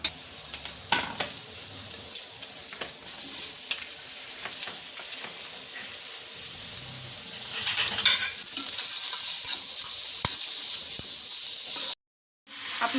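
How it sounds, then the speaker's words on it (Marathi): Cut onions roast in a pan for biryani masala, giving a steady bright sizzle that grows fuller toward the end, with a few stirring clinks and no talk, cut off by a short gap near the close. "त्यासाठी हे कांदे कापून आपल्याला भाजून घ्यायचे।"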